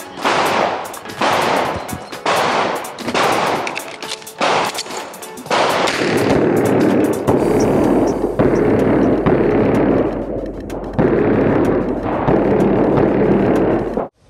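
Rapid close gunshots from an Armscor/RIA 1911 GI Series .45 ACP pistol on a firing range, sharp loud reports in quick bursts with heavy ringing echo and a low rumble filling the gaps.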